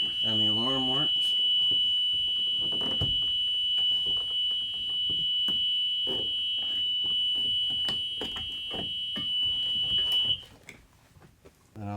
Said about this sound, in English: Hit the rear emergency or the roof emergency exit to make sure it opens and the alarm works.